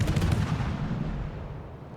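Ship's guns boom in a sharp close volley at the submarine U-69 in World of Warships, the blast fading into a rumbling decay over about two seconds.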